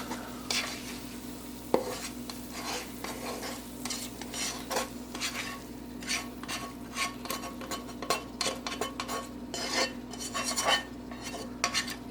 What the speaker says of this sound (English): Stir it around really good.